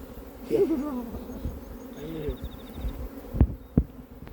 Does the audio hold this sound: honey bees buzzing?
yes